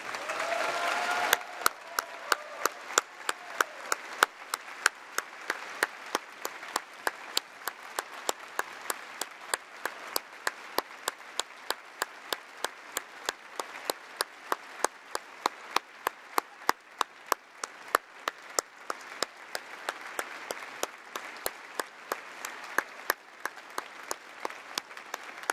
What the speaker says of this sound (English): please join me in giving a huge round of applause for our departing Treasurer